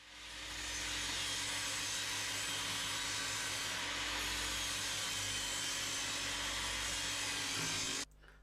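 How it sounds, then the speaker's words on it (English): A power tool trims narrowboat internal door panels to size, running as one loud, continuous, close buzzing drone for about eight seconds before it cuts off abruptly. No voices. "we're just trimming the panels down to the correct size"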